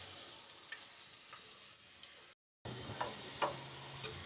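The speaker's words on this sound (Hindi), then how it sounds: "ऑयल में मुझे इन दोनों चीज़ों को कुछ देर ही पकाना है ताकि इसका ये कच्चापन दूर हो जाए।" Garlic and whole red chilies frying in hot oil, a steady close sizzle with a few brief crackles and pops, broken by a short gap partway through.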